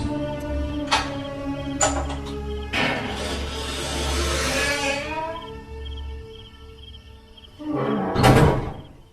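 A door in a large two-storey house is opened, with a few sharp knocks and clacks, a long scraping creak as it swings, a steady low hum underneath, and a louder rattling thud near the end.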